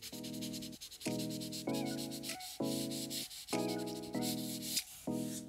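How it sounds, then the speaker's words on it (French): A door is lightly hand-sanded with 320 grit sandpaper. Rhythmic back-and-forth strokes about half a second apart each carry a faint squeaky, tonal rasp at close range, with no talking. "On passe au grain 320, très léger."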